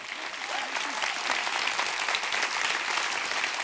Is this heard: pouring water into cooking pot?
no